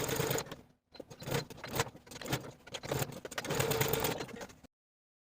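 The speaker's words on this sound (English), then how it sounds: "edge stitch around those tucked under edges all the way around the sleeve placket for both sleeve plackets" A sewing machine edge stitches around the tucked-under edges of a fabric sleeve placket, whirring in quick bursts with short pauses between runs before stopping abruptly near the end.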